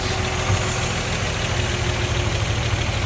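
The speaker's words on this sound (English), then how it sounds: "got the hood open and still idling along here. Check out the engine bay, there's that inline 6" A 1949 Chevrolet pickup's inline-six engine idles with the hood open, giving a steady, close, low rumble with an even throb and no voices.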